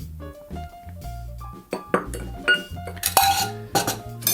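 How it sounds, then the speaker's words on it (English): Several sharp glassy clinks of an ice cube dropped into a glass for a Negroni, scattered over a few seconds, with soft tonal music playing in the background. "now we're gonna get our glass and one nice cube"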